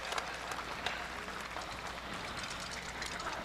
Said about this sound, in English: How about a round of applause for all of our dancers here this evening